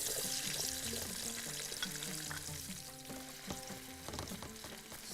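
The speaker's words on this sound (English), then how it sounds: "now the oil is hot, we're going to put the onions" Onions frying in hot oil for Bahraini thereed, a steady close sizzle with scattered crackles and light clatter of stirring, no voices over it.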